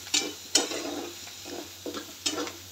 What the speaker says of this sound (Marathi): छान असा लालसर होईपर्यंत परतायचा कांदा.